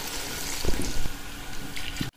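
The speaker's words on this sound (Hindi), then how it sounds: "अब इसमें पानी डाल देंगे।" Two litres of hot water poured into a pot of desi chicken cooking in ghee, a steady splashing, gurgling pour heard close for about two seconds before stopping abruptly.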